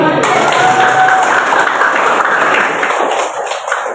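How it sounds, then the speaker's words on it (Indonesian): Students in a classroom clap their hands during a concentration game in a religious studies lesson. The clapping is loud, dense and continuous, a busy wash of many hands that thins slightly toward the end. "Kata hati tepuk tangan. Tepuk tangan."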